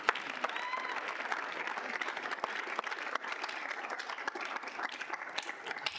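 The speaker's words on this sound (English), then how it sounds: "We'll do a round of applause" Steady, dense applause from a student senate gathering fills the room for the full stretch, a crowd clapping together at an even, sustained level with no speech on top.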